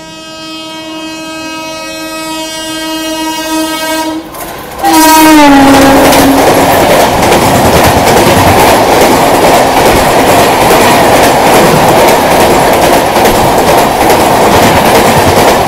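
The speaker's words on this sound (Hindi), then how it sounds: "सामने में जो ट्रेन लगी हुई है वो है Anand Vihar Ballia super fast express." Anand Vihar–Ballia Superfast Express sounds a long, loud horn close by, then its blast drops in pitch as it rushes past with a heavy, roaring rumble and rhythmic wheel clatter, very near and overwhelming, no talking.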